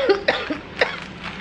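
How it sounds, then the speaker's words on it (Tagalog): A person with a dry cough hacks several times in quick succession, short harsh bursts close to the microphone with brief gaps between them. "Tuyong-tuyo yung ubo ko"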